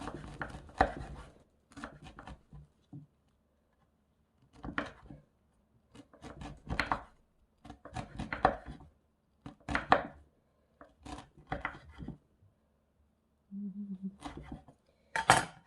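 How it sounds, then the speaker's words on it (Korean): A knife chops radish into large pieces on a board for pickle, with short bursts of crisp strokes separated by pauses and a few clinks nearby, and no talking. "이렇게 좀 큼지막하게 썰어서 지저분하게 떠다니는 일은 없게"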